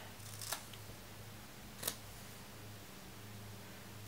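Two quick, faint snips of scissors cutting a fabric applique tree trunk, set about a second and a half apart over a quiet room hum.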